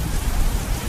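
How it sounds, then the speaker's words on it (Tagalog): Heavy rain pours down in a loud, dense hiss of water, heard only for a brief moment with no voices over it. "Ibang-ibang lakas ng ulan."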